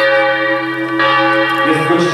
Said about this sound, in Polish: Donośny dźwięk dzwonu wypełnia plac sądowy.